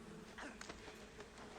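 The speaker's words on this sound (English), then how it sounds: "He's too busy getting stung by trillions of bees." A swarm of bees in Metal Gear Solid 3 buzzes in a faint, dense drone with a few sharper wing-whirs rising and falling, no voices over it.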